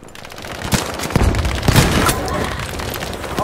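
Loud, dense video game gunfire, rapid automatic bursts with booming shots layered into a continuous barrage throughout.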